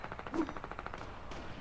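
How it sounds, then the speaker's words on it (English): Rapid bursts of distant automatic gunfire rattle in a quick, even rhythm, fairly faint, from Fortnite. "Oh, look! There's gunfire, John."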